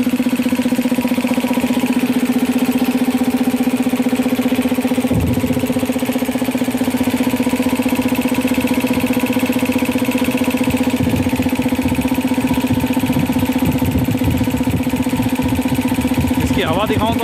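A 3hp Elgi air compressor runs under test with a steady, loud motor hum and drone that holds throughout, and a few faint knocks and scrapes join it near the middle and end.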